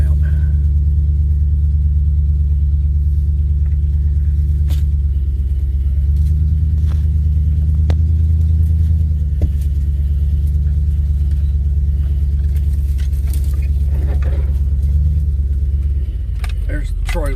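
A car drives out from a property, its steady low engine rumble and road noise filling the cabin continuously, with occasional light clicks and rattles, while a person talks over it.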